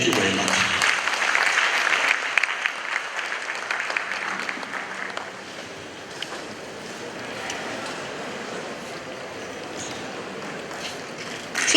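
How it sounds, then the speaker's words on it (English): An audience at a Supreme Court 150th anniversary ceremony in Ghana applauds. The clapping is broad and steady, strongest at the start, then settles into a fainter, windy wash. "Please, a big round of applause."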